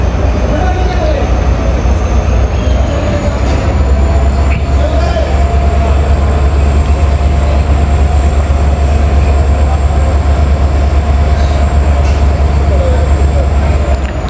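A Tezgam Express locomotive coupling to coaches at Lahore Junction gives off a loud, steady diesel drone with low rumble and constant mechanical hum, close and unbroken throughout.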